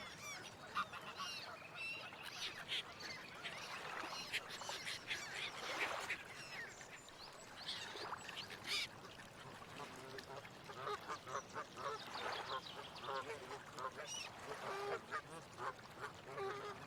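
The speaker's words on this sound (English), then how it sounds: "That's a lot of noise. 3 ducks." Three ducks quacking and honking in the Forest Ranger Simulator video game, a busy, continuous chorus of repeated calls at moderate volume, with no talk over it.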